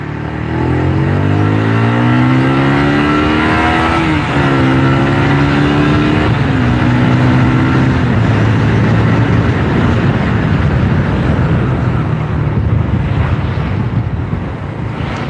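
A vehicle engine running loudly close to the microphone, its pitch rising and falling as it revs and settles, with steady wind noise over it throughout; no talking.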